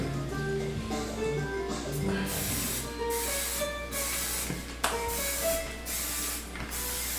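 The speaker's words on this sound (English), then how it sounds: "Now take your cooking spray." Cooking spray hissing into a hot muffin tin in a home kitchen, several short spray bursts heard over a steady background hum with music faintly playing.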